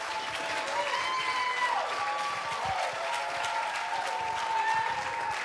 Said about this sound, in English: Clap your hands for Christopher York.